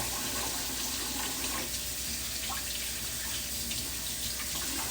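Tap water runs in a steady, unbroken stream over cucumber noodles in a large container at a sink, a close, continuous hiss and splash with no one speaking.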